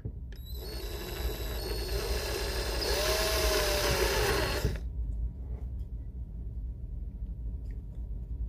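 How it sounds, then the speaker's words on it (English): A power drill whines at high speed as it bores out a white plastic peg on a Beast Wars Transmetal Rattrap toy, running close up for about four seconds before stopping, leaving low room rumble. "So we are going to go ahead and drill this out."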